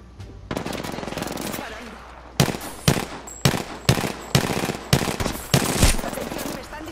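Rapid gunfire from the game Apex Legends: a steady stream of automatic shots followed by a string of loud, distinct bursts roughly every half second, close and punchy, with game voice lines mixed underneath.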